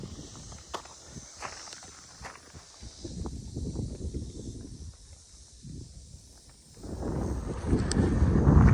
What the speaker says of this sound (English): Kind of windy out, so hopefully it's not too bad on the audio.